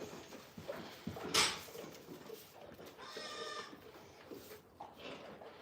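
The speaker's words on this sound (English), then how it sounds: "These are dairy goats" Dairy goats on a farm, heard as a few bleats and rustling movement at moderate distance, with one sharper cry standing out partway through.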